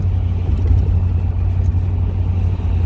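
A 1969 Corvette pulls hard on a bumpy road, its engine giving a continuous heavy low drone with road rumble from inside the car, loud and steady throughout.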